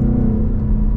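A 2024 Mustang GT with long tube headers rumbles loud and deep, its exhaust a dense, continuous low roar close by, with no break through the short stretch.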